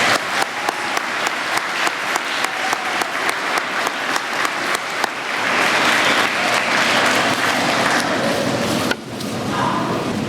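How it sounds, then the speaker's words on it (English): Audience at a middle school Veterans Day ceremony applauding veterans, starting with loud, evenly spaced rhythmic claps that give way to dense, sustained applause from the crowd. "All right, let's give these veterans a round of applause."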